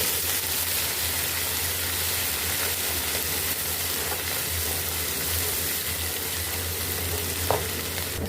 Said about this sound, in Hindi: इसको हम फ्राई कर लेंगे।